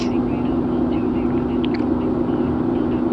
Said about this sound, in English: So it's a bit loud because it's a diesel engine.